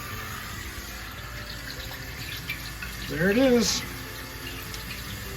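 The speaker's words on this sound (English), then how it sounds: "Water's going through the filter very nicely" Water from a cold water line runs through a filter at a brew kettle, a low steady hiss and trickle throughout, with a brief voice partway in.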